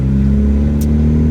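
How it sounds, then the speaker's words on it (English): Turbocharged Honda Civic engine idles with a steady, loud, close-up drone and a deep low hum, plus a brief hiss partway through. "Go drive around a little bit, show everybody the car is running."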